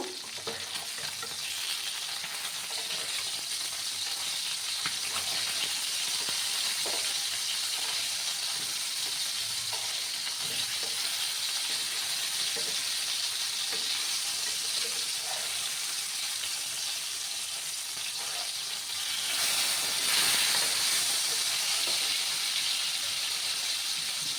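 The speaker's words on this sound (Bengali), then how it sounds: "আর এদিকে আমার মাছটা ভাজা হতে থাক বন্ধুরা" Rohu fish pieces frying in mustard oil in a pan, a steady loud hissing sizzle that continues throughout with light spatters and a brief surge near the end, with no talk.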